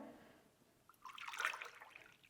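Water is poured out for measuring in a short, faint splash that swells midway and fades, close by and alone.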